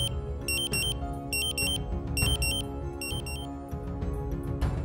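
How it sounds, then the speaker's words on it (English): A Dräger Pac gas detector sounds its alarm during a bump test: rapid groups of shrill electronic beeps that repeat in bursts over a steady background hum, close and loud. "After a few seconds, the Dräger Pac will activate the alarm."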